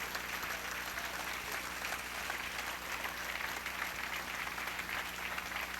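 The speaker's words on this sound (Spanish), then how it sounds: "Dele un aplauso al Rey con todo su corazón." Steady, dense applause from a congregation during an evening church service, continuous and even throughout without a break.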